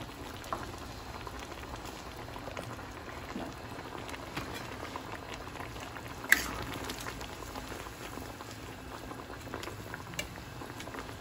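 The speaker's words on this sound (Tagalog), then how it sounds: "Kumukulo na pala yung ating sabaw" Sardine broth boils steadily in a pot, a dense crackling bubble and patter that runs on evenly with one sharper pop midway.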